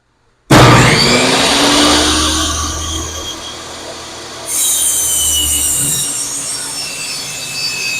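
A saw cuts down a wooden board into 5.5-inch-deep pieces for a bathroom cabinet build. It is a loud, continuous rasping cut that starts abruptly, runs for several seconds and shifts tone partway through.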